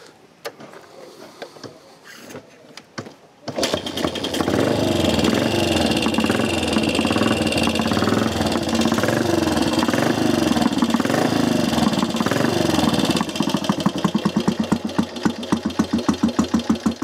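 A Matchless motorcycle engine, still cold, is kicked over after a few quiet workshop clunks, catches and runs loudly with a rough, lumpy idle that settles into a steady, close beat.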